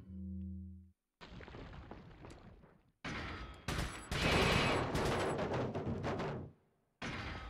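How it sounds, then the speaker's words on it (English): Submachine gun bursts in Resident Evil 4 on PS2 ring out as loud, rapid volleys separated by short silences, with a brief tonal sound before the first burst. "Back to SMG."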